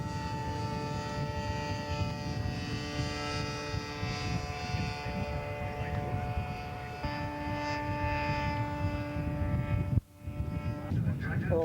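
PT-17 biplane towing a glider at a scale aircraft show, a continuous droning propeller engine hum with steady tonal harmonics, moderately distant, sustained throughout with a brief dip near the end.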